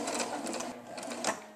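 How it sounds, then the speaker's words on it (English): A sewing machine stitches the ear of a fur teddy bear with a quarter-inch seam, a steady rapid mechanical whirr with fine rhythmic needle ticks, close and fairly quiet. "we're just going to start sewing the bear's ear, and remember we have a 1/4 inch seam allowance"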